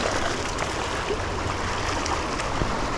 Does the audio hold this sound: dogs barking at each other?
no